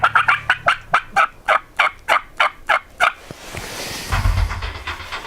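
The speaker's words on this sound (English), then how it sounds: "Then eventually we heard the first gobble." Wild turkey gobbling, a rapid run of about a dozen sharp, evenly spaced gobble notes, fairly close and loud, followed by a low rumbling wind or handling noise.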